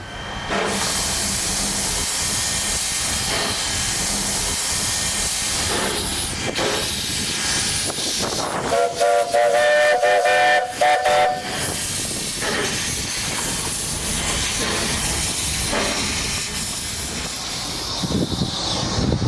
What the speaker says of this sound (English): It's an industrial tank engine built by Perry Engineering in Adelaide for Victoria's State Rivers and Water Supply Commission in 1927.